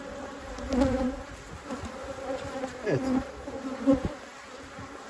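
Carniolan honeybees hum and buzz close by around an open hive, with individual insects droning past now and then; a voice speaks briefly and quietly.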